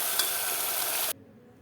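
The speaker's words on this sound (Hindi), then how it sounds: "तो ये पहले कीमा भुन रहा है, उसके बाद इसमें हम मसाले जो है वो ऐड करेंगे।" Minced meat (keema) frying in a pan, a steady close sizzle that cuts off abruptly near the end and leaves a quiet room, with no talking.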